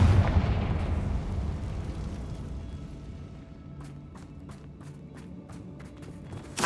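A Confringo blasting curse detonates in the Hogwarts Legacy video game. A loud, booming explosion opens and rumbles as it slowly decays, followed by a run of light, regular ticking steps.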